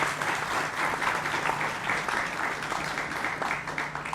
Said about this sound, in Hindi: जोरदार तालियों से चेतन का स्वागत कीजिए।